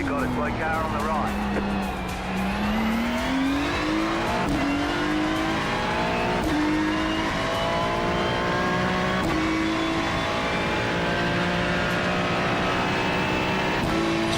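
Race car engine held at full throttle in the iRacing sim, a loud continuous whine climbing through the revs with brief shifts, steady and close throughout, with someone talking over it.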